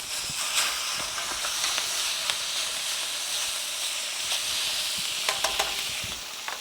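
Steaks searing in browning butter in a very hot pan, giving a loud continuous sizzle and hiss with scattered crackling pops, close up.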